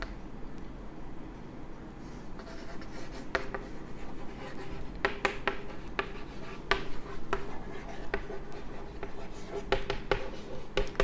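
A pen writing on paper during a maths lesson, close, scratchy strokes and taps in an uneven rhythm, heard alone without speech.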